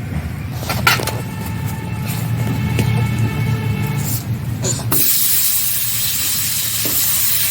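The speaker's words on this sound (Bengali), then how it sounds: "এখন তেলের মধ্যে আমি সবজিগুলোকে দিয়ে দিচ্ছি" Sliced papaya, potato and green banana frying in hot oil, a broad steady hiss and sizzle heard up close, with clinking stirs early on, then a brighter, stronger sizzle taking over midway.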